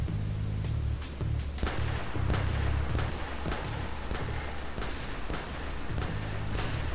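Pistol shots ring out in the first-person shooter Wrack: a series of sharp, loud cracks at irregular intervals over a steady low droning game backdrop.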